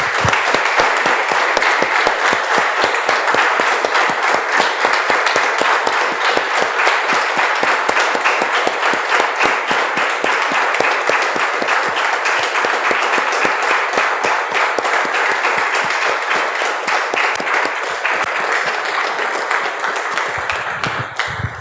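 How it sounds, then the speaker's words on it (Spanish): Congregation applauding the Lord at a Spanish-language church service, a long, dense, loud run of rapid clapping that carries on steadily for over twenty seconds and thins out at the very end. "Damos un aplauso, hermanos, al Señor."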